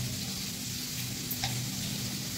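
Spiced fish fries slowly in a pan with a steady, close sizzle that holds evenly throughout, with no voices.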